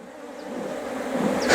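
Honey bees drone steadily around the entrance of a beehive, a soft continuous buzz that swells louder toward the end, with a brief closer whoosh at the finish.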